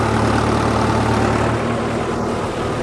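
Tractor engine pulling a disc harrow through a field, a loud, close, continuous heavy drone with a steady low hum that shifts tone partway through, no voices.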